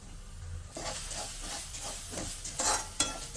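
Turmeric, black pepper, asafoetida and coriander powder fry in a pan for an aloo paratha filling, a soft sizzle under repeated scraping stirs that grow a little louder toward the end.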